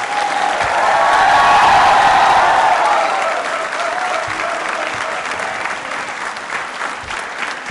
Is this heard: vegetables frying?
no